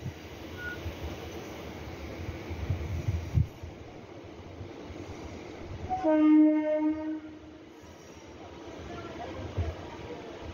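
Passenger train pulling out of Vijayawada station toward Tenali, with a steady rolling rumble throughout and a loud, sustained horn blast midway that rings out for about two seconds before fading back into the running noise.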